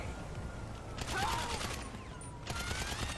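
A PDW submachine gun fires in Grand Theft Auto V, with two rapid bursts of automatic shots over game background noise and a voice talking.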